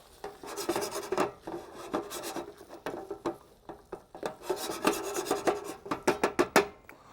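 Spoon stirring rice in a pot as the bottom begins to stick, giving a steady run of close, dry scraping and rasping strokes in an irregular rhythm, with no voices.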